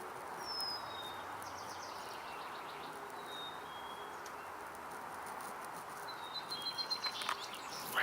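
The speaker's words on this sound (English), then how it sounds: "Red-winged blackbird." A red-winged blackbird calls outdoors at a distance, with a few thin high whistles and trills over steady ambient background and faint patter.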